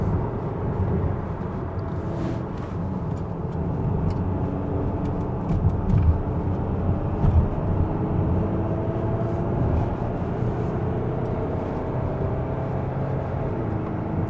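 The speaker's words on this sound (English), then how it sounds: "So this is a rather quiet diesel, very nice." A 2023 Kia Sorento 2.2 diesel climbs a steep mountain road, its engine a low, steady, subdued drone inside the cabin, blended with constant road and tyre noise and no talking.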